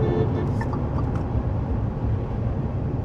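Tata Safari petrol SUV driving and accelerating, a steady low engine and road rumble continuing throughout at even loudness, with no talking.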